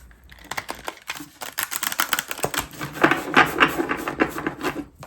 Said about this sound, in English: It is challenging to shuffle.